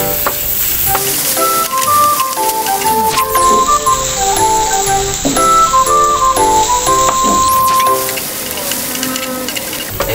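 Garlic frying in hot oil for a sardine soup, a steady bright sizzle running throughout under background music with melodic tones.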